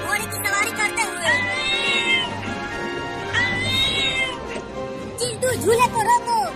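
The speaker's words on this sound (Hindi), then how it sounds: "ये बिल्ली इतना बोल क्यों रही है?" A cartoon cat meows repeatedly in drawn-out, whiny cries, several separate calls rising and falling over a playground swing scene, with voices speaking underneath.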